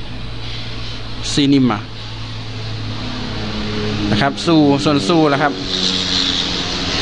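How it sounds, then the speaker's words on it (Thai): An airplane's steady drone and rushing roar fill the background throughout, moderately loud, while someone talks over it in short phrases. "อันนี้เสียงเครื่องบินนะครับ"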